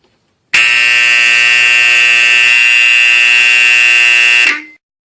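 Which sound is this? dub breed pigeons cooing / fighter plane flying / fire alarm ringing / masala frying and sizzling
fire alarm ringing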